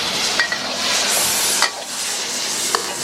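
A tub of ingredients is dumped into a hot pan at a Kuala Lumpur street food truck, and the food sizzles loudly and steadily, with a few clanks of stirring.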